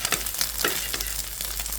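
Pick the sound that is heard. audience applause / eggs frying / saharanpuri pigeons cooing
eggs frying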